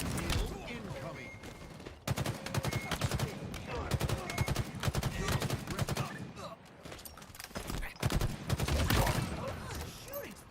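Dense bursts of automatic gunfire and rapid shots in a Halo multiplayer hill-control match, crackling almost nonstop with brief pauses, loud and close.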